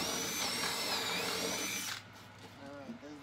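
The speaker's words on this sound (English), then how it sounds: "So I'll drill a hole in the middle." A power drill whines steadily at high speed for about two seconds while drilling a hole for stall bars, then stops, and a person starts talking.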